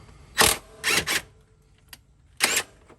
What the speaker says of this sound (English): I'm using my nice DeWalt impact driver